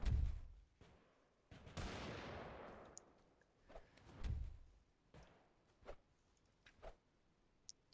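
Scattered gunshots in the game Totally Accurate Battlegrounds, several sharp cracks spaced irregularly, fairly faint and distant-sounding, with one longer sweeping whoosh early on.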